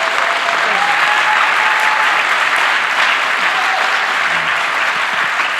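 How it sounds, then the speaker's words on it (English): An audience at a WebVR panel session gives the panelists loud, continuous applause, a thick, unbroken roar of clapping from a large crowd that holds steady for the whole stretch. "Can we get a round of applause for our panelists today?"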